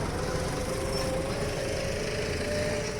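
A tractor engine runs in a steady, fairly loud drone with an even mechanical buzz as it is brought in to park, continuous throughout.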